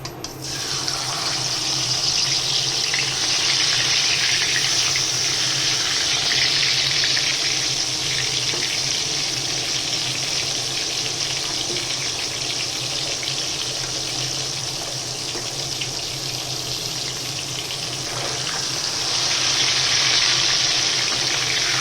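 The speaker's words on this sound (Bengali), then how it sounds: "তেলটা গরম হয়ে গেছে মাছগুলো দিয়ে দিই মানে ভাজতে একটু টাইম লাগবে" Large fish frying in hot oil in a wok give a loud, steady, dense sizzle that hisses without a break the whole time, easing slightly partway through and then rising again, with no talk over it.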